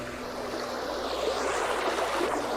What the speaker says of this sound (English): The water is very loud.